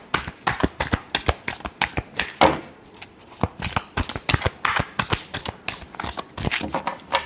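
Tarot cards are shuffled by hand, close and loud, with a rapid, rhythmic flurry of riffling slaps and brief pauses between bursts, no voices.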